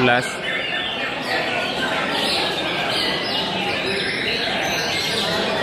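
Contest songbirds chirp and trill at an outdoor bird competition, the calls tangled with a loud announcer calling numbers over a busy crowd.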